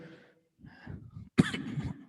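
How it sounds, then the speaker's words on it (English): A single sharp cough, close and fairly loud, from a person with an allergy to a heater during an indoor yoga class, with soft breathy throat noise before it. "I have a bit of an allergy from the heater, so I'm coughing a bit"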